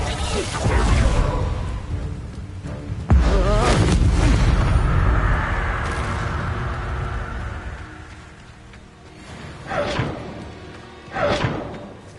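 A Confringo blasting spell goes off in Hogwarts Legacy, a heavy explosive boom with a whooshing rush and rumbling tail, then further thuds and swishes, with a voice shouting over the action.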